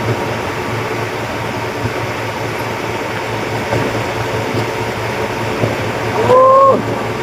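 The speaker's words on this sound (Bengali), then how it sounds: "চলে এসছি আমরা হাওড়া স্টেশন। আমরা ট্রেন ধরবো বাবাধামের উদ্দেশ্যে।" Ambience at Howrah railway station: a steady hum of machinery and crowd murmur throughout, with a short rising mechanical whine or horn-like tone near the end.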